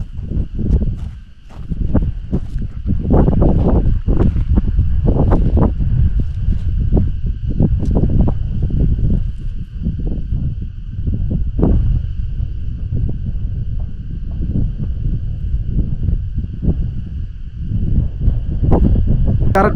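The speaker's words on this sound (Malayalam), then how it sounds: "നല്ല കാറ്റാണ് കാറ്റ് കൊണ്ട് തന്നെ പറന്ന് താഴെ വീഴാൻ ചാൻസ് ഉണ്ട്" Strong gusting wind buffets the microphone at an exposed hilltop viewpoint above a steep drop, a loud, continuous roar with uneven bursts that rise and fall throughout, alone without voices.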